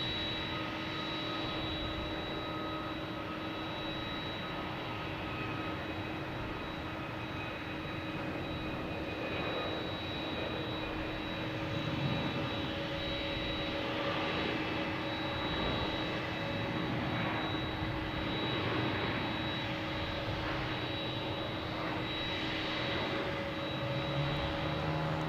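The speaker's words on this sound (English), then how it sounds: "Here is United Airlines 2400 737 MAX 8 heading to San Francisco." A United Airlines Boeing 737 MAX 8 jet departs Boston Logan bound for San Francisco, its engines a steady broad roar with a thin high whine, sustained and moderately distant throughout, with no voices.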